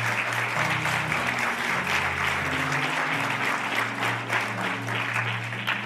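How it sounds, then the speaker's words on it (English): A church congregation claps hands in praise, loud dense applause filling the room steadily for several seconds over a low sustained organ-like tone. "Let's give God another hand clap of praise."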